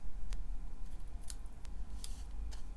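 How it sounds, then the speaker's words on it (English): Scissors trimming the edge of a handmade Christmas card, several short crisp snips spaced irregularly over a low steady room hum, close and clear with no talk. "I'll just trim that one up a little bit."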